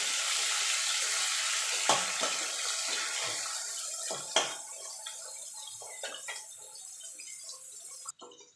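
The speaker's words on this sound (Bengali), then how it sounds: "পেঁয়াজটা ভালো করে লাল লাল করে ভেজে নেবো" Onion sizzles and fries steadily in a pan of hot oil with whole spices, a continuous close crackling hiss broken by a few soft clinks and stirring knocks, no one talking.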